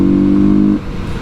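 A Kawasaki KLX250 dirt bike engine holds a steady, loud buzzing drone, then drops off abruptly into rougher lower rumble and wind noise as the throttle closes after a wheelie attempt.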